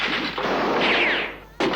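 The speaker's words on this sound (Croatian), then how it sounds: "Mrvica puca po mom hotelu." Cartoon gunshots ring out inside a hotel, a couple of sharp cracks with ricochet-like whines trailing off, then another loud blast near the end.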